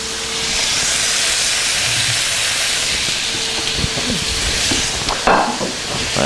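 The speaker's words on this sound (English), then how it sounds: "So we're going to start with our bacon in the pan." Bacon frying in a pan gives a continuous bright hiss and sizzle, fairly loud and steady, with a few faint clinks and handling sounds near the end and no speech.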